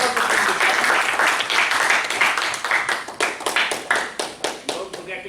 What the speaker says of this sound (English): A.M. Zishan, big round of applause.